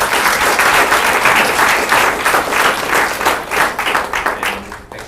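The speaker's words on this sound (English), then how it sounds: "can we give a round of applause for our speakers?" Audience applause for speakers at a tech talk, sustained and fairly close, a dense crowd of clapping hands with no break, thinning slightly at the end.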